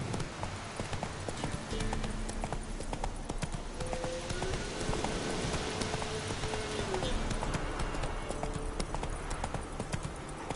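The horse Roach gallops in The Witcher 3 video game, its hooves pounding in a steady, continuous clip-clop rhythm for the whole stretch. A brief tonal sound rises midway through.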